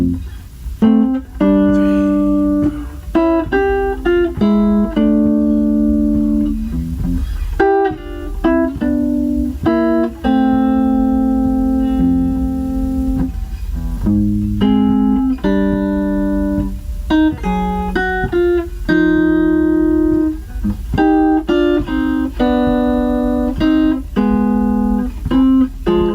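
Solo guitar picking two interweaving counterpoint melodies, one upper line over a moving lower line, played continuously and clearly up close with no talking.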